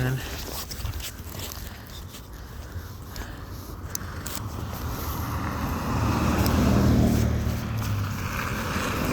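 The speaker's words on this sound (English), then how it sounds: "Gotta wait for a car passing by." A car passes on a snowy residential road after a big snowstorm, its broad whooshing swell building toward the end over steady wind noise, while a person talks nearby.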